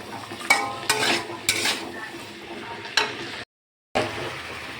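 Vegetables seasoned with salt and turmeric are stirred in a pan, with a steady sizzle beneath a run of sharp utensil scrapes and clinks against the metal and a brief gap of silence near the end.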